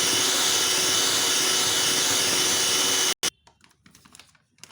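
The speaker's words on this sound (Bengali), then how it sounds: "এটা দিয়ে আবার আমি ব্লেন্ড করে নেব।" An electric blender runs loud and steady on cupcake batter ingredients, whirring continuously for about three seconds before cutting off abruptly, followed by faint clinks and handling sounds.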